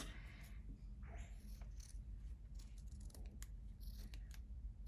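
Scissors trimming the seam corners of a fabric cushion close to the stitching, a few quiet snips spread unevenly over a soft room hum, close by and without talk.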